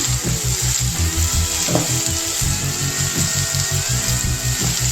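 Vegetables frying in a pan for egg pasta, a loud close steady sizzle with a rhythmic low mechanical hum beneath it and occasional stirring scrapes, with no one talking.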